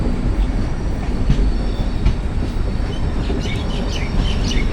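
Rajdhani Express train pulling out of Shoranur Junction, heard from on board an AC 3-tier coach: a steady, loud rumble of wheels and carriage noise with faint birds chirping in the background.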